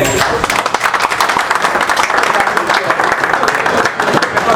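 Applause from an audience at a school send-off ceremony at a bilingual high school, many hands clapping loudly and unevenly with sharp individual claps standing out, continuing steadily for several seconds.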